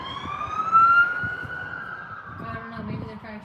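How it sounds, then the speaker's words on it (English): Police car sirens wail past in a rising then gliding tone, close and prominent, with road rumble underneath and faint voices in the background. "No, I think they're regular cop cars."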